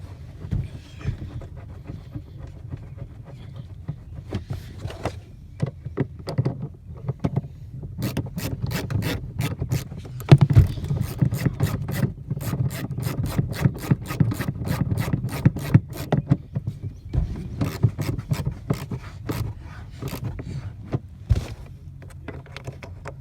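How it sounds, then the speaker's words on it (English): Ratchet clicking as a 14 mm seat belt bolt is tightened on a 2012 Nissan Altima, with bursts of rapid, close pawl clicks between pauses and handling rubs. "then we'll go ahead and tighten it up with the ratchet"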